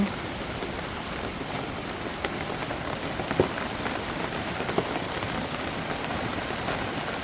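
Heavy rain falls in the mountains beside rice paddies, a dense, constant hiss of drops on surfaces with a few sharper nearby spatters, loud and steady throughout.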